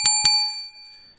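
A bright notification bell sounds twice in quick succession, close and clear, with metallic tones ringing out and fading over about a second.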